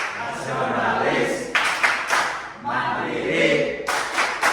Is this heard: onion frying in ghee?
no